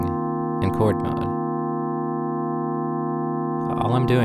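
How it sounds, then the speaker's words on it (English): A Mutable Instruments Plaits Eurorack synthesizer drones in chord mode, holding a steady sustained chord throughout, with a voice talking briefly over it at the start and the end. "What you're hearing now is Plaits droning in chord mode."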